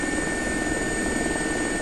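Simulated air ambulance helicopter in the X-Plane 11 flight simulator, a steady, loud rotor and engine drone with a constant whine, continuous throughout with no talking.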